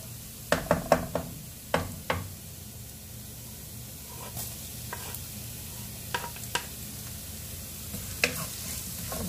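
Garlic sizzles in a frying pan for spaghetti with white sauce, a steady frying hiss under repeated sharp clacks of a utensil stirring against the pan, the knocks coming in scattered bursts.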